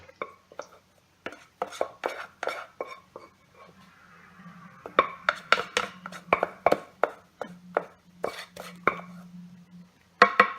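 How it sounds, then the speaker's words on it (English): Honeycomb toffee mixture is scraped from a saucepan onto a baking tray: a series of sharp, close utensil taps and scrapes against metal in an irregular rhythm, with a faint steady hum beneath. "Scraping down all of the baking tray to make sure you get every last little piece."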